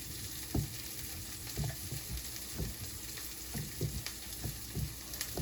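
A burger frying in a pan, a steady sizzle with soft crackles and periodic bumps of movement, moderately close and with no talking.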